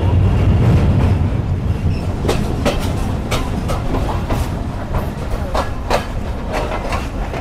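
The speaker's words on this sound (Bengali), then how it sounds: "আমাদের ট্রেন আবার ছুটে চলছে রাজশাহীর উদ্দেশ্যে" Banglabandha Express train running after a rain shower in Bangladesh, a steady loud rumble of wheels and carriage noise with repeated rhythmic clicks over the rails, continuous and close throughout.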